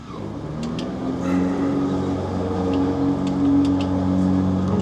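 Idling engine of a Mack R600 truck left sitting for 12 years, a low steady rumble that swells slightly as the throttle is worked, close and continuous with no talking.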